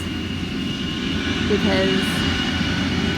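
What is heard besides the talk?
vehicle driving by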